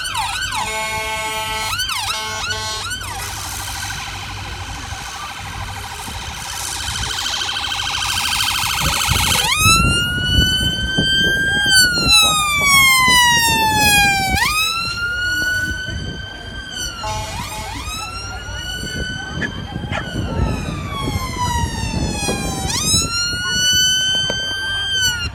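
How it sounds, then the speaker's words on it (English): A loud police car siren wails and yelps in rising and falling cycles, preceded by a brief stretch of different warbling tones, at a police dog demonstration in a park in Gloucester. "So here we go, we've got police car coming in."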